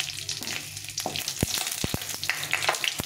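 Whole spices, dried red chilli and two bay leaves frying in hot oil while being stirred, a continuous close sizzle broken by several sharp scraping knocks of a spoon against the pan, no talk.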